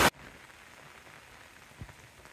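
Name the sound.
rain falling on a flooded field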